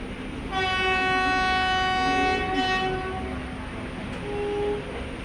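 The Thrissur–Kannur express passenger train arrives at platform 1 with a loud, sustained horn blast lasting about three seconds, then a shorter horn note, over a steady rail rumble.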